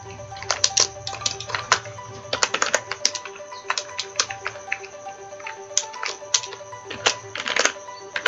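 Rapid, irregular keystrokes on a computer keyboard while entering Python code, clattering in bursts of clicks at moderate level, close to the microphone, with no voices.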